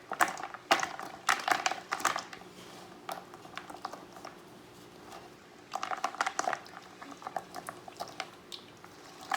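Chocolate chips are poured into a plastic container, giving quiet clusters of rapid ticking and pattering in two bursts separated by a short lull.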